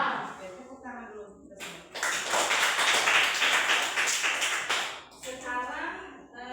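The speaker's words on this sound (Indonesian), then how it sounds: "Oke, tepuk tangan dulu." A class claps along in a mathematics lesson: a burst of rhythmic hand claps lasting about three seconds, with a teacher talking before and after.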